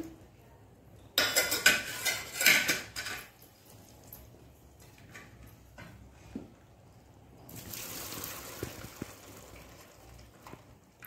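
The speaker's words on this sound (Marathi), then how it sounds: "आता ही डाळ आपण नितळून घेऊया चांगली।" Clattering of a metal pot and utensils, followed by water pouring and splashing as liquid is drained off, with softer trickling and small knocks afterward.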